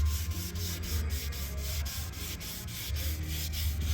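Car clear coat being wet-sanded with 2000-grit paper wrapped around a flat stick, a steady close rubbing hiss with rhythmic back-and-forth strokes, no talking.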